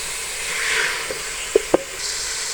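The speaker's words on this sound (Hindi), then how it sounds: "चिकन का कलर चेंज होने तक हम इसको थोड़ा भून लेंगे।" Chicken pieces sizzle and hiss while frying in a pot, a steady close crackle with a few sharp clinks near the middle.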